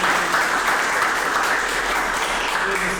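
A dense, steady round of applause fills a karate dojo, many hands clapping together at an even level from start to finish with no talk over it.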